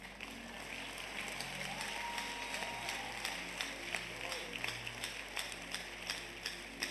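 A church congregation claps together at a Sunday service in Abuja, a steady broadband patter of many hands that continues throughout while organ or keyboard tones and voices sound underneath.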